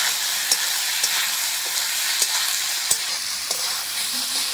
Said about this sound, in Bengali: এরপর দিয়ে দেবো ভেজে রাখা আলু আর কাঁচা কলা, দিয়ে ভালো করে মশলার সঙ্গে কষিয়ে নেব।